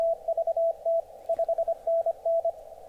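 An amateur radio DX station sends Morse code as a clear, steady tone of quick dits and longer dahs in bursts, standing alone over a faint noise floor.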